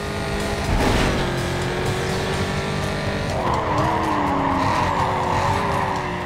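A Corvette in the racing game Need for Speed Carbon skids through a corner, a loud droning engine overlaid with a long, wavering tyre squeal that rises in pitch midway and continues to the end, with no voice heard.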